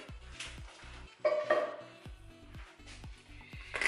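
A whisk stirring pudding mixture in a pot on high heat, with soft repeated clinks and scrapes of metal against the pot in an uneven rhythm, close by, plus a brief louder rattle partway through.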